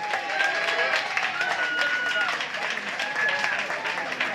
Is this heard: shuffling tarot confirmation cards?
no